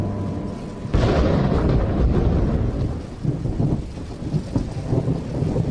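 Heavy rain pours steadily while a loud, close thunderclap breaks in and rumbles on through the downpour, with no voices.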